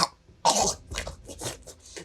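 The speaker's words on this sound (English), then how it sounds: "The weasel babbles at you with a manic grin on his face before sputtering into a fit of coughs." A fit of coughing from a weasel character in the video game Banners of Ruin, a short burst followed by several smaller rasping coughs and throat sounds, close and clear with no talk.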